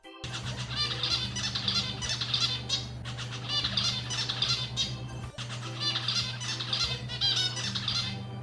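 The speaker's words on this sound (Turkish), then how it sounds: "Hint bülbülü. Indian nightingale." An Indian nightingale gives dense, harsh squawking and chattering calls in repeated bursts, loud and close, over a steady low hum.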